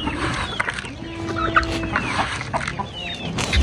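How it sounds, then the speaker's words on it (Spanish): Farmyard hens cluck and chatter as they are fed corn. The busy, overlapping calls are close and continuous, with occasional louder squawks over scattered background noise. "les voy a dar este maicito a mis gallinas"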